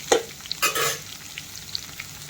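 Potatoes and bitter gourd dropped into hot oil in a pan for frying, a brief loud sizzling burst followed by a quieter crackle and a few small pops, close and with no talking.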